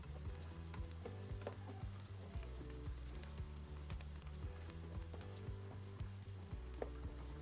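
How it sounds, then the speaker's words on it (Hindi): Steady sizzling and crackling of garlic and ginger paste frying in hot oil, a continuous close bubbling fizz with no talking. "अच्छी तरह से दोस्तों तड़का लगा लेंगे।"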